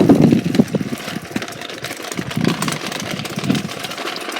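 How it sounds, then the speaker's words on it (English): A lawn mower engine runs at a rumbling idle nearby on a rainy lawn, its low chugging pulses rising and falling in loudness as it is walked along. "just walking my mower back"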